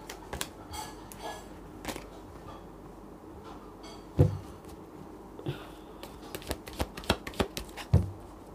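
Tarot cards shuffled by hand at close range, with repeated riffling bursts and sharp taps that quicken toward the end, no talk over it.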